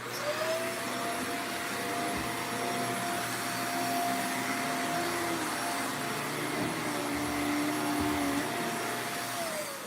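A vacuum cleaner runs steadily in a gym, its loud continuous whine and motor hum holding throughout with a few brief dips in the low rumble.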